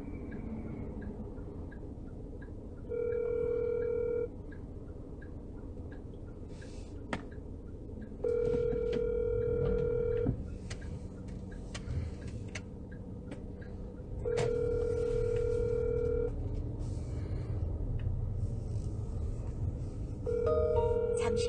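A phone call rings out from a car, repeated electronic ringback tones recurring in bursts several seconds apart over engine and road hum, with occasional speech in between.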